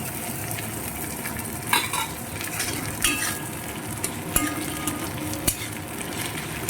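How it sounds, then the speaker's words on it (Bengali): Ginger garlic paste frying with browned onions in a pan over medium heat, giving a steady crackling sizzle with intermittent utensil clicks and stirring scrapes against the pan. "এবার আমি আদা রসুনের পেস্টটা দিয়ে দেব"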